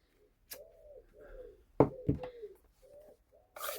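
Soft, repeated cooing of wood pigeons heard through open doors in a calm, quiet setting, with a couple of sharp knocks in the middle and a brief rustle at the end.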